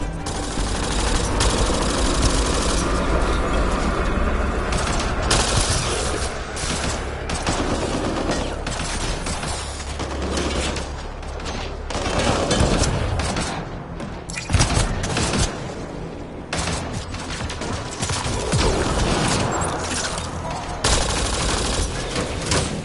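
Sustained automatic gunfire and heavy bursts from a firefight against pirates in Mass Effect Andromeda, loud and continuous with booms and thuds throughout.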